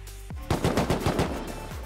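Full-auto AK rifle fire in a video game: a loud, rapid burst of roughly a dozen shots in quick succession, alone with no talking.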